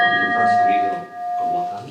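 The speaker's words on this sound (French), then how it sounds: "vous pouvez entendre le son de la cloche de Coruche qui n'a pas été entendu depuis le" A virtual reconstruction of the Coruche church bell being struck, ringing with a steady sustained tone and bright overtones that carry through the whole stretch, under someone speaking French.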